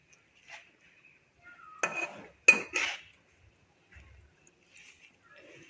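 Arabic mutton dish being served out of the pot, with a few sharp clinks and scrapes of a serving spoon against metal in a short cluster, otherwise quiet, and faint voice traces in between.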